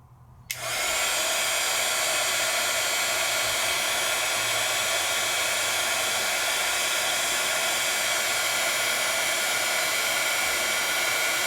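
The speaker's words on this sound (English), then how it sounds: "This is a heat tool. It's got 2 speeds." A two-speed heat tool for embossing switches on after a click and blows a loud, steady whooshing roar with a constant whine, running alone without pause.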